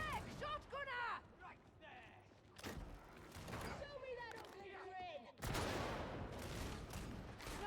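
Gunfire from a lasgun and other weapons in the Darktide video game, sharp repeated shots and bursts with chirping energy-weapon tones, dense and loud, a sustained roaring barrage near the end, with talk over parts of it.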